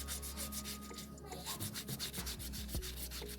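A sponge scrubbing a dirty yam, giving a steady rhythmic rasping rub with quick repeated strokes, close and fairly quiet, with no voices.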